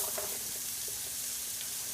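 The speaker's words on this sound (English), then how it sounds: "The next thing we add is our diced onion, our diced green pepper," Diced onion and green pepper sizzling in a pan, a dense, steady hiss of frying with faint stirring taps, continuous and fairly close.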